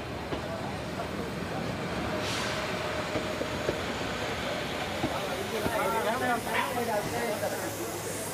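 An Indian Railways train rolls into a station, a continuous rumbling of wheels and carriages with hissing and brief metallic squeals, heard at moderate distance with steady noise throughout.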